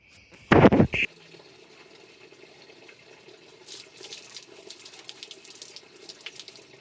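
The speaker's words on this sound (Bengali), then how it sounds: "আর এক বালতি জলও ভরে রেখে গেলাম" A tap briefly gushes water into a bucket in a short loud burst, then stops, leaving quiet rustling, faint drips and light handling noises for several seconds.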